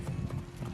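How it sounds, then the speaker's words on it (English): Hooves of a black horse clip-clop in a Ubisoft video game, a quick run of soft, muffled thuds at close range, fairly quiet, with no talk over them. "We have this beautiful black horse here."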